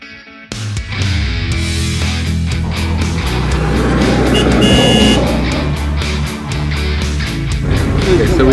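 An old Jeep Nomad bounces along a rough dirt track beside the Kruger Park fence in Marloth Park, its engine droning loud and steady with rattles and knocks from the bumpy ride throughout.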